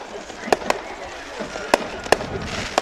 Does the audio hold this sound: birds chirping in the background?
no